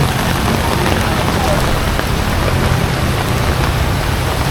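Heavy rain pounds down in a dense, constant roar of drops hitting surfaces, loud and unbroken throughout.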